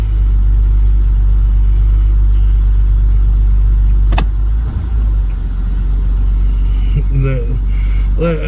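A 2007 Buick Lucerne idles in gear in the snow with a loud, steady low engine rumble, broken by a sharp click midway and brief voice-like sounds near the end.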